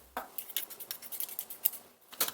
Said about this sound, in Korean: 자, 이렇게 골고루 섞어서 놔주시면 살짝 절여지거든요